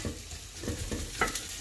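Onion sizzling in a hot pan with paprika for paella, a soft continuous frying hiss with occasional stirring scrapes and no talking.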